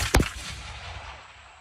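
A flintlock musket fires once in a single sharp, loud report near the start, followed by a long fading rumble and echo outdoors.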